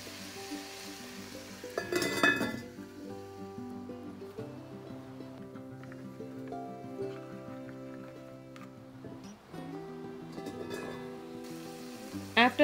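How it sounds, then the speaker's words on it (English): Carrot rice cooking in a lidded pot, with a burst of stirring and scraping near the start and another toward the end, over a steady low bubbling and soft kitchen noise. "Once in a while you can open the lid, stir it so it doesn't get stuck at the bottom"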